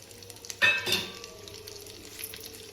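Urad dal, mustard seeds, cumin and dried chillies hit hot oil for a sambar tempering, giving a sudden loud sizzling burst with a second crackling surge that fades into a low, steady fry.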